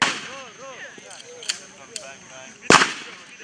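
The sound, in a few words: gunfire during weapons training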